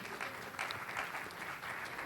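Congregation applauding during a church sermon, a steady, dense wash of clapping that holds at an even level throughout with no break.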